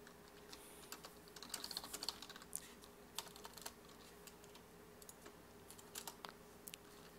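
Fast, light keystrokes on a computer keyboard while chatting in the online game Runes of Magic, a busy, irregular clatter of soft clicks at close range over a faint steady hum.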